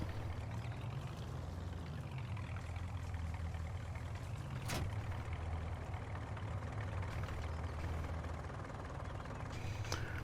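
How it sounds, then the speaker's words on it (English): A small four-cylinder tractor engine in Farming Simulator 19 idles with a steady, loud low rumble, broken by one brief sharp knock midway. "for a small engine, 4-cylinder tractor, yeah, it sounds pretty legit"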